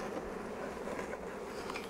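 Many honey bees from a caught swarm buzz in a dense, continuous drone, close by and fairly quiet, with no voices.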